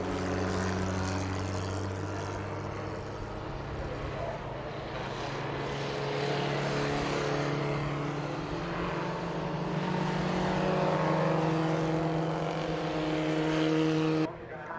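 Historic 750 Formula race cars at the Brands Hatch Indy circuit, a steady loud engine drone that swells and fades as cars pass, continuing under the field for the whole stretch.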